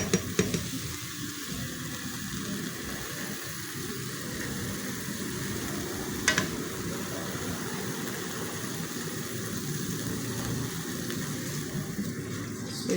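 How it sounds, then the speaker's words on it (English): Steady sizzling of goat meat stew frying in a pot, with occasional scrapes and clinks of stirring, close and fairly quiet throughout. "keep frying until it melts"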